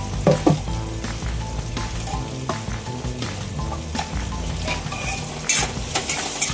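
Chopped onion softening in a pan for sambar, sizzling steadily while a utensil stirs and scrapes in irregular bursts, with occasional clinks of metal against the pan, close and moderately loud, no talking.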